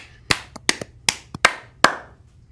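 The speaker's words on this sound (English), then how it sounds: "Are we clapping?" A few people clap sparsely in a studio, sharp close hand claps in an irregular, hesitant rhythm, about eight distinct claps with quiet gaps between.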